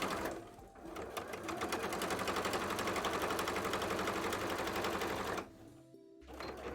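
A sewing machine runs a top stitch on the base of a costume tail, a rapid, even mechanical chatter lasting about five seconds, then a pause and a short restart.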